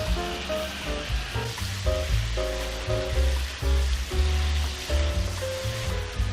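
Pork for a gochujang rice bowl, seasoned with brown sugar and black pepper, sizzling and frying in a pan: a steady, close crackle of hot fat with occasional stirring, no voices.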